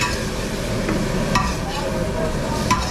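Gravy bubbling and sizzling in a pan over a flame at an Indian street food stall, a steady crackle with a few clinks of utensils and busy background noise.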